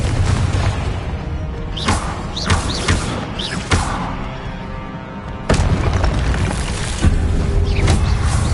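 A Confringo fire spell from Hogwarts Legacy bursts in heavy booming blasts, loud and close, layered over a dense rumble of game sound with several whooshing impacts in sequence.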